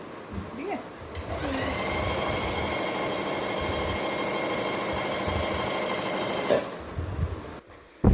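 A sewing machine stitches cushion fabric in a steady, fast mechanical whir that runs continuously for several seconds before stopping, heard close with faint speech around it.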